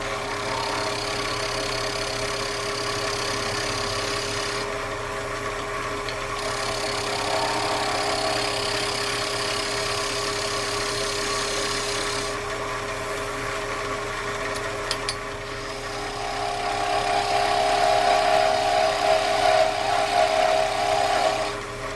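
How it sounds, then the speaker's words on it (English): A 1-inch skew chisel takes a planing cut along a spinning workpiece on a wood lathe while turning a bell Christmas ornament, a steady motor drone with a continuous hiss of shaving that swells louder toward the end. "This is a 1-inch skew chisel. I'm going to take a planing cut right down this way with it, bring it back into round."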